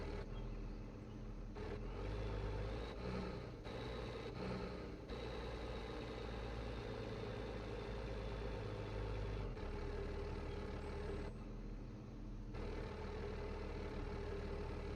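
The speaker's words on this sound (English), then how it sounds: "audio on that tractor sounds fantastic." A video game tractor engine idles steadily, a low continuous rumble with small shifts in tone, no voices.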